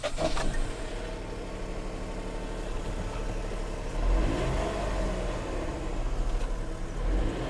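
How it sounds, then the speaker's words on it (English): Fiat TwinAir two-cylinder car engine running steadily at moderate volume with a rough, uneven throb, swelling slightly a few times as it pulls along a motorway. "this twin air, if you don't know, is a twin two-cylinder engine that Fiat make. It sounds awful"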